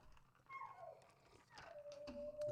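A pet dog named Pluto howls and whimpers indoors in a short, wavering, rising-and-falling cry, faint and close, with no one speaking.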